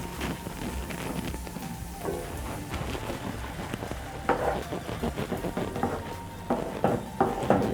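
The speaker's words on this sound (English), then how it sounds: "So now that my noodles are ready, I'm going to add them in my pan." Cooked noodles tossed into a pan of frying vegetables, a soft continuous sizzle broken by irregular stirring scrapes and clatters that grow busier toward the end.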